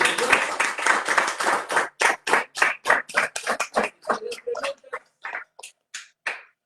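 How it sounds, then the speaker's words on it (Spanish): Congregation applause in church, first a dense burst of many hands, then breaking into loud, separate rhythmic claps that thin out and become sparse, close and fairly strong. "Damos un fuerte aplauso al Espíritu de Dios."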